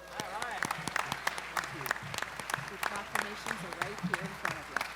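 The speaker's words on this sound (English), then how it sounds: "Let's give them a big, huge round of applause" Audience applause fills a convention session's opening evening, steady clapping from a large crowd with voices and chatter mixed in over roughly five seconds.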